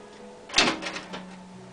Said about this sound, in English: We're going to put the tape into the machine.